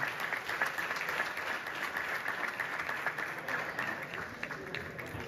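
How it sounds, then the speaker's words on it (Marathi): Applause at a prize distribution for home Ganpati decorations, a steady spread of many hands clapping at moderate distance, fairly even in level throughout with some speech mixed in. "घरगुती गणपतीसाठी जरा जोरदार टाळ्या झाल्या पाहिजे."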